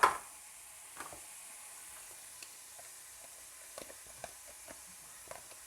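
Onions, mushrooms and garlic frying in a pan, a steady soft sizzle with occasional small pops and stirring clicks, close and alone after a brief sharp clatter at the start.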